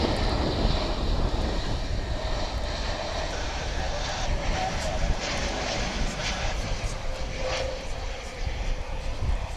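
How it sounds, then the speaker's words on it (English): An Airbus A320 airliner arriving from Las Vegas at DFW International Airport, its engines giving a steady broad roar through the whole stretch, loud and sustained, with some wind noise. "This is flight 269 from Las Vegas, an Airbus A320."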